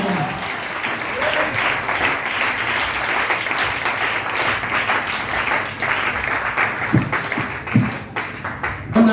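A church congregation applauding, dense sustained clapping filling the room, with a voice faintly audible in the background.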